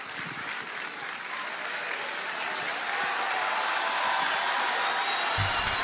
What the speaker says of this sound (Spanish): ahí viene un aplauso prolongado entonces de los presentes